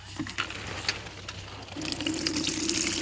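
Rice being rinsed in water, soft splashing and swishing at first, then a steadier pouring, gushing stream, close and moderately loud.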